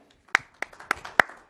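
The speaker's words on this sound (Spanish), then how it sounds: "Podemos dar un aplauso por ese concepto" Only a few people clap in a church talk, six or so sharp, sparse claps spaced about a quarter second apart, close and brief rather than a full audience ovation.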